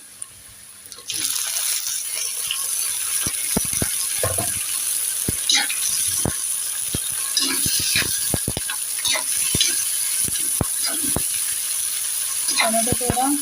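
Tomatoes tipped into golden fried onions for a fresh cashew-nut curry set up a loud, steady sizzle, with repeated scraping knocks of a spoon stirring the pan close by throughout.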